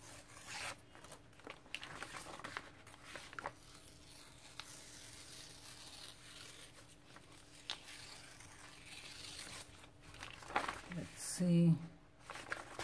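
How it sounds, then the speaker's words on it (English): A sheet of music paper is ripped by hand to make torn edges, giving several short close tearing and rustling bursts, with a louder rip near the end. "I want some torn edges, so I'm going to start ripping"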